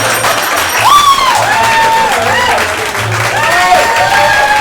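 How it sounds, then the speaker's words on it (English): An improv comedy show audience breaks into loud, sustained applause and cheering that fills the room. Voices sound over the clapping and rise in pitch above the crowd noise. "We clapping for love tonight"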